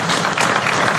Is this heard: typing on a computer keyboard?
no